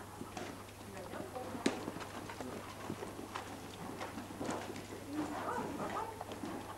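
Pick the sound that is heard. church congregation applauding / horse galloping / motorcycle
horse galloping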